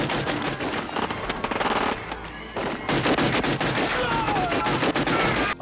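Staged gunfire with real bullet impacts for a film scene: loud, rapid bursts of automatic shots and sharp cracks of hits, with a brief lull partway through before the dense firing resumes.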